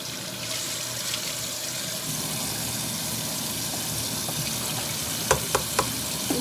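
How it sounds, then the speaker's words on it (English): A small indoor water fountain trickles and burbles steadily at close range, a continuous watery wash with a few sharp clicks or drips near the end and no talking. "It's like a little fountain thing."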